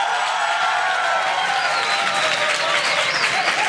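Enthusiastic audience applause at a science slam, dense close clapping with a few cheers and whoops rising over it, sustained at full strength throughout.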